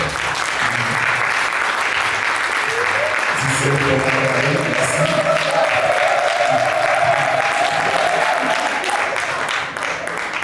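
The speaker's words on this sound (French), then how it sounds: "Sous vos acclamations, s'il vous plaît." An audience claps continuously and loudly at a book signing conference in Yaoundé, steady applause filling the room while a voice speaks briefly over it.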